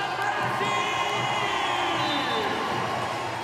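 Roaring arena crowd at a Paralympic women's sitting volleyball semi-final between Brazil and USA in Paris, loud continuous cheering and chanting with whoops filling the space, unbroken from start to finish.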